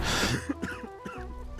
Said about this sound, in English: I am just coughing because I tried some cure earlier on and it affected me slightly